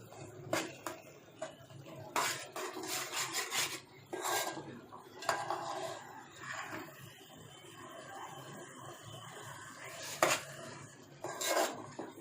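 Masala frying in a pan until the oil separates, heard as close, rasping scrapes of a spatula stirring against the pan in uneven bursts over a low background, with no one talking.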